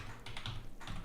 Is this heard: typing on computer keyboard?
yes